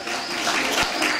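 Audience applause at an award ceremony for a duet category, dense and steady clapping at close range throughout a brief burst.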